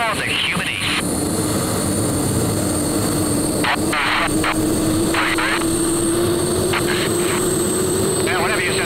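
The Coors Light Silver Bullet jet flies at full power at an airshow, a continuous loud engine roar with a slowly rising whine, under radio chatter and talk.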